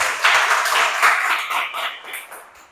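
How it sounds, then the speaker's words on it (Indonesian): A class of schoolchildren applauds in a classroom, a burst of dense hand clapping that starts strong and gradually thins out and fades. "Baik, tepuk tangan untuk kita."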